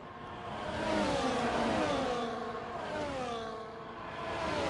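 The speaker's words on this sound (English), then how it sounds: "There's the Aston Martin and the Haas battle over P3 on track." Race cars, an Aston Martin and a Haas, battle for position on track, their engines droning loud and close in a continuous rising and falling whine with shifting pitch as they pass.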